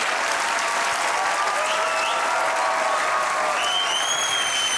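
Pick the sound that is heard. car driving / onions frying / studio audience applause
studio audience applause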